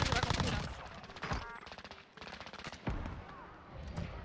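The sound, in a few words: shotgun gunfire in the video game Warzone zombie mode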